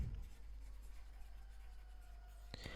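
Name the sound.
writing out a math question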